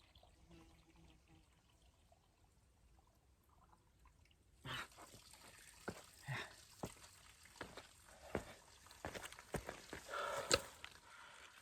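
Water trickles and splashes along a mountain trail in North Carolina, faint at first and then a closer run of small gurgles and drips, with scattered rustles and footsteps.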